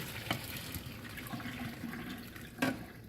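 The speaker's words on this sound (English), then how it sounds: "take the eggs and pour out the hot water" Hot water splashes and trickles as it is poured out of a pan of hard-boiled eggs, with a brief gurgle near the end; soft and close.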